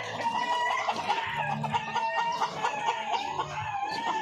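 Darag pullets being raised as breeders cluck and crow steadily in a farm setting, a dense overlapping flock chorus close by with continuous calls throughout.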